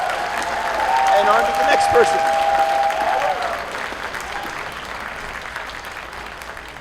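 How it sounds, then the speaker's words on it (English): Audience applause at BronyCon 2016, a broad crowd clapping that swells and then slowly fades, with a host speaking over it and a brief whistle-like tone near the start. "Big round of applause, please."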